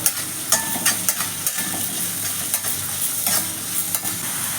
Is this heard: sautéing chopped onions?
yes